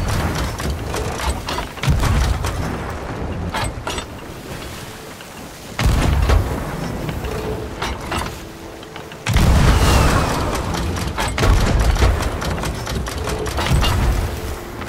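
Cannons fire in the pirate video game Sea of Thieves, with three heavy, close booms spaced a few seconds apart amid a busy layer of smaller bursts, pops and crackling battle noise.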